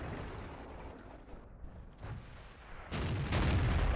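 In the World of Tanks video game, a tank cannon fires with a heavy, sudden boom near the end, loud and rumbling, after quieter battle ambience with no talking.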